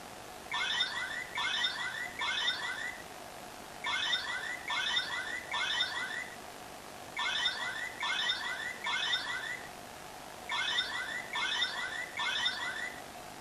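Repeated bursts of electronic chirping confirmation beeps from a Bandai Power Rangers Samurai Samuraizer toy, in groups of three, each group separated by a brief pause, cycling four times at a steady volume.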